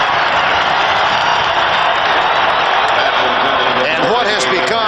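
A football stadium crowd at a 1992 Los Angeles Rams at Dallas Cowboys game keeps up a loud, steady roar of cheering and whooping, with a commentator talking over it.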